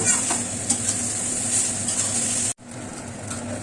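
Poha with fried peanuts is stirred in a pan, scraping and rustling under a constant sizzling hiss, with a brief cut and then a quieter continuation of the stirring and frying; no talking.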